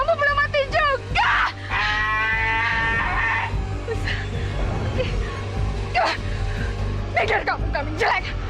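Goats bleat in short wavering cries over a steady low hum, with people talking and shouting in between in a village setting.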